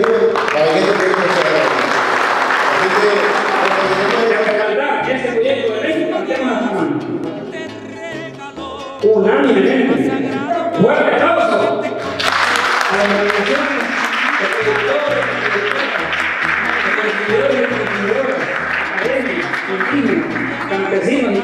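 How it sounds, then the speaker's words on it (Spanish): Audience applause at a national gathering on social and solidarity economy: a sustained, loud wall of clapping mixed with music and a public-address sound, with a brief dip midway before it surges again. "fuerte aplauso a la delegación"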